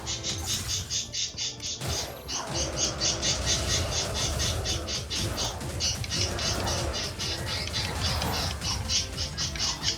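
Birds chirp outside in a steady run of bright repeated calls, fairly loud and continuous through the stretch, with a short pause near the start; no one speaks.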